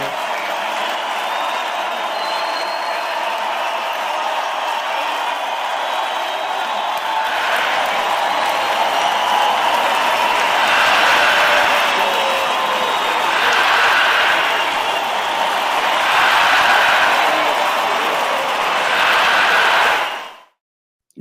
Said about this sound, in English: Hose, give him a crowd.